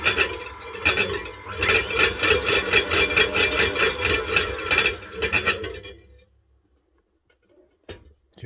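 The beater of an old, well-used KitchenAid Classic stand mixer scraping against its bowl, a fast rhythmic rasping that runs for about six seconds, then stops, leaving near silence and a faint knock.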